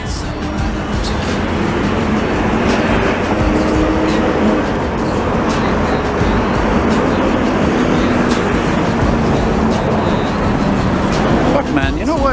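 A CN freight train rolls through St Henri, Montreal, its loud, steady rumble and clatter running continuously throughout, close by, with a few faint sharp clicks near the end.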